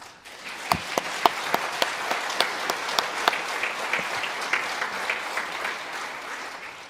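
An audience at a school-hosted heroes breakfast applauds the honor guard and musicians, with a few sharp, close individual claps standing out over the softer sustained clapping of the room.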